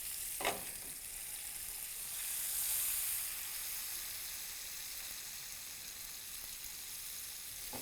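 Paneer tikka samosas sizzle in hot oil, a steady, fairly quiet frying hiss that swells briefly, with a soft clink near the start and no talking.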